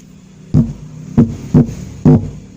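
Four deep, boomy bass thumps at uneven intervals, with only low end and no treble, played through a speaker with a two-way tone control set to low only, with no voices.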